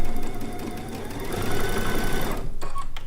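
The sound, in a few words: sewing machine stitching quilt seam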